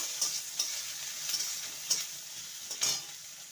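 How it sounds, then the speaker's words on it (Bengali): Chopped onion lightly frying in a pan with a steady, close sizzle, with a few soft stirring scrapes at irregular intervals. "এবার পেঁয়াজটাকে হালকা ভেজে নেব"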